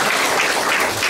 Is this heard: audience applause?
yes